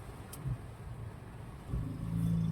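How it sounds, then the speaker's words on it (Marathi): Car traffic crawling along the monsoon road to Lonavla, a low steady engine rumble of vehicles nearby with a louder surge of a passing car toward the end, no voices. "एवढं भयंकर ट्रॅफिक आहे इकडे."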